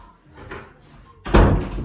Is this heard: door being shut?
yes